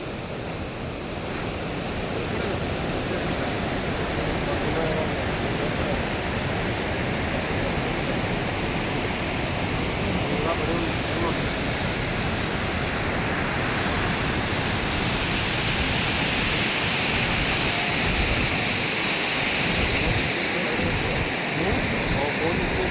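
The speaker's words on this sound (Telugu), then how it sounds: "ఎత్తిపోతల వాటర్ ఫాల్స్" Steady, dense roar of rushing water throughout, broad and continuous like a large waterfall heard from nearby, with no pauses, at Ethipothala Falls in Andhra Pradesh.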